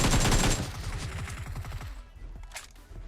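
Video game gunfire in a battle royale match, a dense rapid burst of automatic shots at the start that thins into scattered pops and echoes.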